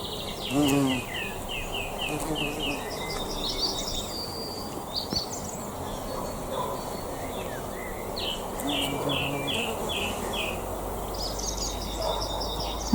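Flying insects, two of them, buzz around a bathroom under renovation, their drone steady and close with small rises as they pass; faint bird calls sound from outside.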